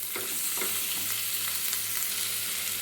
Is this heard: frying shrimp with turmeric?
yes